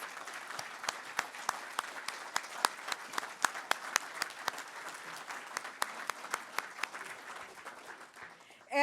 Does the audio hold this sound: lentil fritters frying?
no